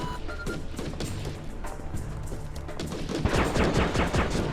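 Sustained automatic gunfire in a Heavy Fire: Afghanistan cutscene set in the woods, a steady dense rattle that swells louder and more frantic toward the end.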